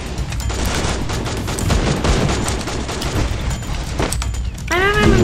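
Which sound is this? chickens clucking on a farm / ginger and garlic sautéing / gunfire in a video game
gunfire in a video game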